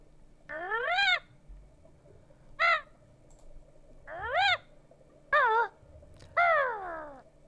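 The bird Kazooie from the video game Banjo-Kazooie lets out five squawking, warbling calls, each with a rising and falling pitch. They are spaced a second or more apart and are heard clearly, alone against a faint hum.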